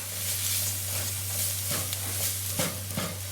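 Chili and garlic cloves sizzle and fry in butter in a pan, a steady close crackling hiss with a few soft stirring scrapes over a low hum.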